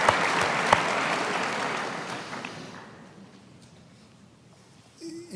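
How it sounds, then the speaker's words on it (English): An audience at a 2014 Elon Musk talk breaks into sustained applause, loud and dense at first, then thinning and fading out over several seconds. "I think that deserves an applause."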